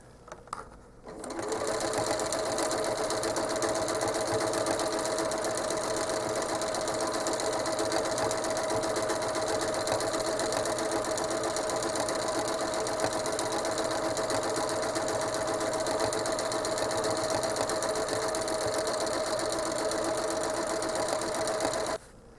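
A sewing machine stitches a stencil-marked quilt in one long unbroken run, a loud, close, steady rapid whirring hum that starts after a brief pause and stops abruptly at the end, with no speech over it.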